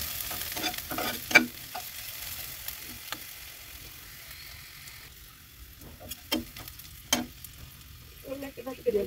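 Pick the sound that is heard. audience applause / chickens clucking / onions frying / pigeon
onions frying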